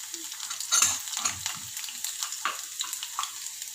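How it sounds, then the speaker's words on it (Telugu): Ginger and garlic frying in oil for restaurant-style crispy corn, a steady close sizzle with stirring scrapes and light utensil clinks, no voices. "అల్లం వెల్లుల్లి మంచి ఆయిల్లో ఫ్రై అయితే టేస్టే వేరండి"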